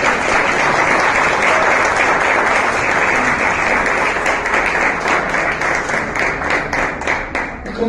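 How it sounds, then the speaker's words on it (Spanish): A church congregation applauds together in a sustained, dense wash of clapping that stays loud and steady, thinning slightly toward the end, with no talk over it. "Denle un aplauso al Señor."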